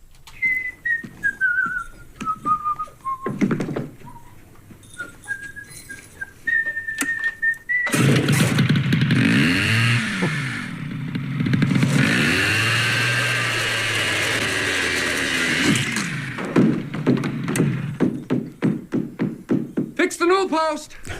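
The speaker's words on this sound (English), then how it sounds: "He's got a chainsaw in his hand upstairs." Chainsaw roaring in a movie scene, a loud sustained buzzing run of several seconds with rising and falling pitch, set between stretches of whistling and other noises.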